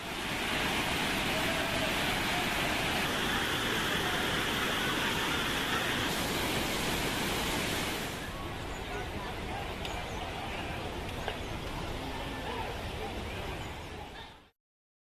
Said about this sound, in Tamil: ஒகேனக்கல் காவிரி ஆற்றில் நீர்வரத்து அதிகரித்துள்ளது.